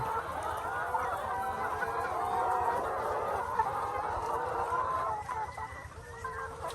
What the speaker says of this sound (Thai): จะมีไก่กำลังฟักอยู่นะ